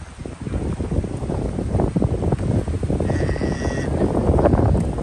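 Cold wind blowing steadily outdoors, a continuous close rushing buffet across the whole stretch with a brief faint higher tone partway through.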